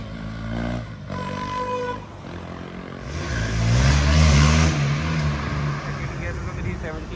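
A KTM Duke 390 motorcycle engine revs and accelerates close by, rising to a louder surge midway, with people talking over it.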